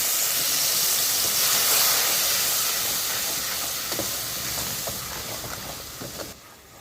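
Spice paste fried in hot oil with two dried red chillies and a spoon of nigella seeds for a vegetarian doi potol curry. It gives a loud, steady sizzling hiss with scattered crackles that eases slightly toward the end.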